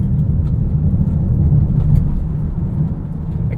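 2023 Mitsubishi Outlander PHEV accelerating in full electric mode, heard as a steady low road and cabin rumble with no engine note, moderately loud and even throughout.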